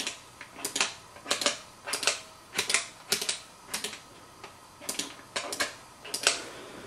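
Rapid clicking of regular switches on an original Liquid Foot Junior foot pedal, a quiet, close series of sharp taps in irregular clusters, alone over faint room hiss.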